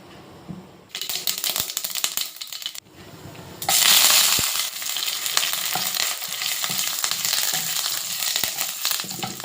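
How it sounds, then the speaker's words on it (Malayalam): Mustard seeds, dried chillies and curry leaves crackle and splutter in hot oil, first quietly, then in a sudden loud burst of dense sizzling and popping that carries on steadily to the end. "കടുകെല്ലാം പൊട്ടിക്കഴിഞ്ഞു"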